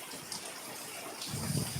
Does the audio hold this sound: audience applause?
no